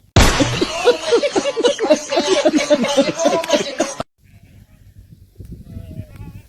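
A flock of goats bleats repeatedly and loudly up close, overlapping cries for about four seconds, then it drops to faint background sounds.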